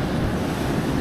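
Ocean waves at the beach roar in a dense continuous wash of surf, loud and close, mixed with wind buffeting the microphone and no voices.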